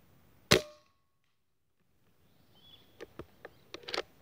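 A single sharp, snappy shot from a Hatsan Flashpup PCP air rifle with 18-grain JSB pellets at 97 metres rings out, followed after a pause by a cluster of faint clicks and ticks, with a brief bird chirp in the background.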